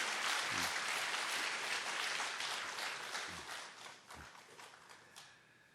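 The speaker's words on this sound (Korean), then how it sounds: "박수로 격려해 주십시오." Church congregation applause encouraging new members introduced at the front of the sanctuary; steady, moderately loud clapping for about five seconds that gradually thins and softens, with a few low thumps and no talking.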